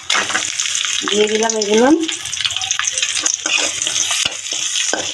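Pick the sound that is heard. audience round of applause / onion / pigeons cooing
onion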